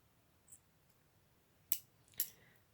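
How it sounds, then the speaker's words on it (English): Scissors snip off excess crochet thread while a left-handed tablecloth is being worked, giving two short, crisp cuts, fairly close and alone, over a quiet background with a faint tick earlier. "And then cut the excess off."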